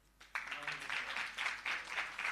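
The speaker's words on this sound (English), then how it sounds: "A round of applause." Applause from an audience at an accreditation awards ceremony starts abruptly and continues as steady, moderately distant clapping, with a faint voice underneath at first.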